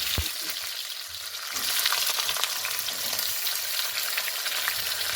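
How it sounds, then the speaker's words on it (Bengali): Onions fry in a pan for a thin chicken curry, a dense, bright sizzle that swells louder after a quiet start, with an early clack of a utensil and no speech. "পেঁয়াজটা আমি পেস্ট করি না, ওটা আমি ভেজে নিই।"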